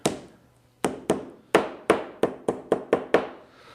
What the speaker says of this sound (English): So just gently tap this in here.